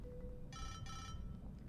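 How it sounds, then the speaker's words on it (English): A phone ringtone for an incoming call sounds in two short bright electronic tones, somewhat faint under low background rumble. "Oh, he's getting a call."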